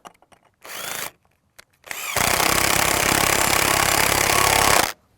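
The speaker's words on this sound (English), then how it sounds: "Then screw that on." A power drill drives screws to fix a gate hinge on a timber permaculture vegetable enclosure, with a short whir, a brief pause, then one long, loud, steady run of the motor.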